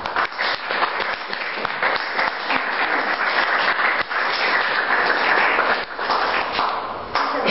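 Warm, sustained applause from an audience at a gender-equity presentation event, many hands clapping densely and loudly throughout with no talk over it.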